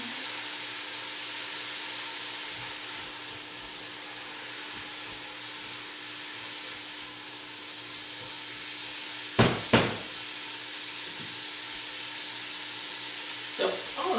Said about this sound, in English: Oh, we're sizzling.